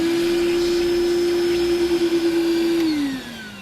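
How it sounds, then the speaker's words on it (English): A vacuum cleaner sucking up plastic shavings, a loud steady whine held close, briefly pulsing, then winding down in pitch as it shuts off. "Now we can come back and vacuum up all the shavings."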